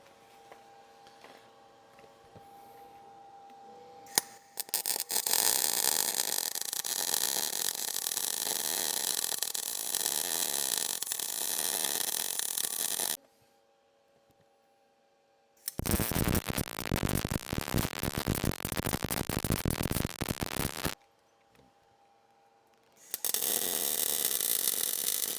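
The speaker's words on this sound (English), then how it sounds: "Now I'm going to weld across the top here" Welding steel on a pallet fork attachment, a loud steady crackling buzz in long bursts of several seconds, broken by short quiet pauses between passes.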